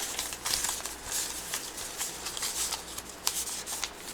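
A deck of playing cards is shuffled close by during a tabletop board game session, giving a steady run of soft papery riffles and flicks with small sharp snaps, all without any talking.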